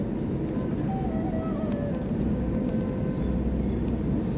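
Steady, loud cabin roar of an airliner landing at Delhi airport, a broad low-pitched rumble that holds evenly throughout with faint higher tones drifting over it.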